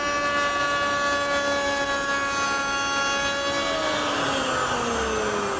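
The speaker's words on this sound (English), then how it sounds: "I'll do that at the router station." A router at a router station, fitted with a 3/8 inch radius bead bit, cuts a bead detail into cornice molding for a Shaker bookcase. A continuous loud, high whine holds steady, then dips slightly in pitch as the bit takes load.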